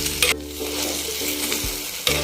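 Mixed vegetables for a Kerala mezhukkupuratti sizzle in a pan while a spatula scrapes and stirs them, with a few sharp metallic knocks against the pan.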